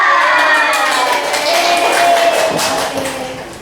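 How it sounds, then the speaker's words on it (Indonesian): A classroom of students claps and cheers together in a dense, loud burst of shouting voices and hand claps that carries on steadily before easing slightly at the end. "Tepuk 3 kali, semangat."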